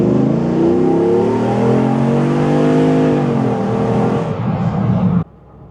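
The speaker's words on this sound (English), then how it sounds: "Exhaust is a little raunchy for a Jeep." A 392 Hemi V8 in a Jeep Wrangler JK revs hard and loud up close, its deep, raunchy rumbling exhaust rising in pitch before cutting off abruptly.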